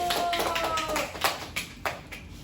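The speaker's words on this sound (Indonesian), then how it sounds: "tepuk tangan dulu" Children and their teacher clapping in a classroom during a lesson on banana snacks, a short round of claps that thins into a few separate louder claps, with voices over it.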